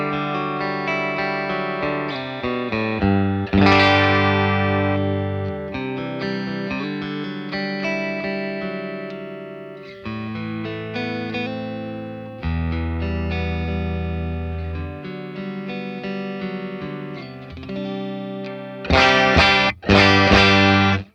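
An electric guitar on the bridge pickup runs through a Dr. Z Z-80 amp with the tone stack at noon, played hard but staying clean, ringing chords and single notes sustaining continuously, ending with a few sharp strummed stabs.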